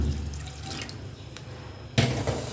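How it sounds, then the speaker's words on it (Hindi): Water, about one cup, pouring into a pot of whole moong dal cooking in a handi; soft trickling and dripping come first, then a sudden louder splash near the end, heard close up without speech. "मैंने इसमें 1 कप और पानी डाल रही हूँ"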